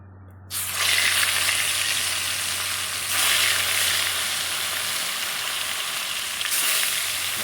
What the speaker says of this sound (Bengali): মাছ ভাজা হয়ে গেছে, এবার মাছটা আমরা তুলে নেবো।